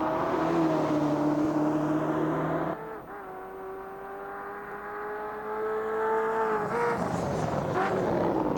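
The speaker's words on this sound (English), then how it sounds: "That was a nice quick stop from Chris there. Straight in, straight out" A GTE/GT4 race car pulls away from a quick pit stop at Imola, its engine note rising and sustained as it accelerates off, loud and close with no talk over it.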